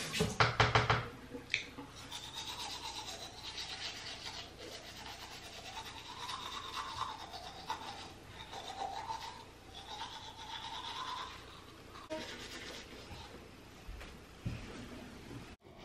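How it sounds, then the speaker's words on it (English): Toothbrush bristles scrub steadily against teeth in a brisk back-and-forth rhythm during a nighttime routine, close to the mic, with a few knocks and faint vocal sounds mixed in. "I'm starting by brushing my teeth."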